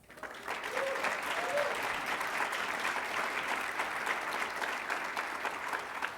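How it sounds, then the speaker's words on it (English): A conference audience at an international LGBTQ leaders' gathering applauds for the Victory Institute, steady moderately distant clapping that swells in and carries evenly throughout, with a faint voice briefly heard early on. "And a great round of applause to the Victory Institute for training 1 out of every 5"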